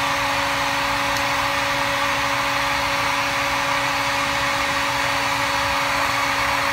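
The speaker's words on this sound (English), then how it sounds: "So I'm just gonna use the heat gun." A heat gun blows steadily and loudly on the ends of a plastic gallon milk jug, a continuous close-up whir with a fixed hum that holds without a break and with no talk.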